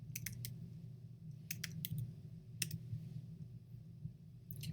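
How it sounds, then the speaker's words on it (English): Soft, sparse taps on an iOS device's on-screen keyboard, a handful of quiet clicks in small clusters over a low steady hum. "We're going to go ahead and type in the Pearson."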